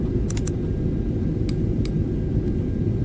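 A Boeing 737-600 taking off in the X-Plane 11 flight simulator, a steady low jet engine rumble throughout, with a few faint clicks of keyboard typing over it.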